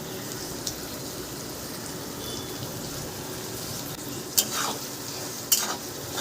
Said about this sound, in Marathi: थोडे मी मटारचे दाणे आणि गाजराचे तुकडे टाकलेले आहेत आणि तेही छान आपल्याला 3-4 सेकंदासाठी परतवायचे आहेत.